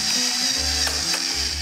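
Manual spice grinder cracking peppercorns with its mill opened wide for coarse pieces, giving a close, dry mechanical ratcheting crunch with short rhythmic bursts and low grinding pulses.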